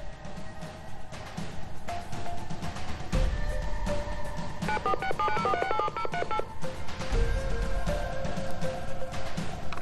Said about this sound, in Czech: Tak slyšíme nějaké vyzvánění.